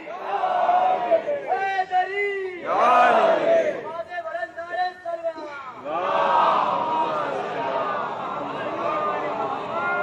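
A crowd at a religious gathering chants the Haidari slogan in loud call-and-response bursts, voices rising and falling in waves with a leader's shouts between them.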